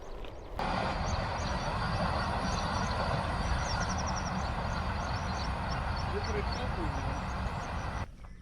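A Vande Bharat express train rushes past close by, a loud, steady roar lasting several seconds before dropping away, with faint birds chirping overhead.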